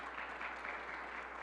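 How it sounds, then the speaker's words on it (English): Audience applause for New York governor Kathy Hochul at a reading-initiative event, a steady wash of many hands clapping at once, even and sustained throughout with no gaps. "let's give her a round of applause for what she does statewide"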